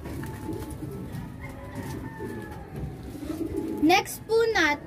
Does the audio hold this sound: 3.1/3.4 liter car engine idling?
no